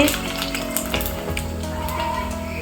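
Fuchka puris frying in hot oil, a dense continuous sizzle and crackle close by with occasional light clinks, and faint voices in the background.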